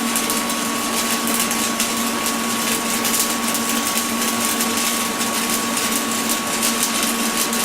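A stick welding rod burns in a weld prep at about 120 amps on a Lincoln TIG 200 Squarewave, giving a steady, close, dense crackling hiss over a faint electrical hum, with no voices.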